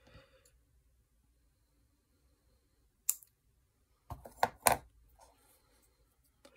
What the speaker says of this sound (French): Je vais couper un petit peu.